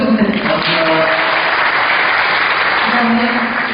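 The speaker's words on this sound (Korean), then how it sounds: "박수 부탁드립니다." A startup concert audience applauding an introduced guest, dense and loud clapping held steady throughout with no voices on top.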